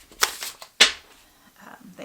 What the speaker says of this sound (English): Do one more shuffle, and then we'll start pulling from the top